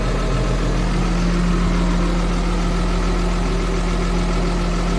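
A cold New Holland T6.175 tractor diesel idles steadily close by, a constant low rumble with a fixed hum and no talk over it.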